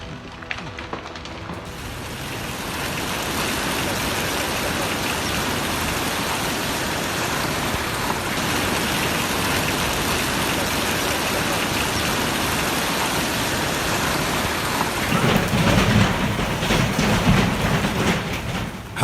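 Large hailstones fall in a hailstorm and make a loud, dense, continuous roar of impacts that holds steady for many seconds and swells near the end.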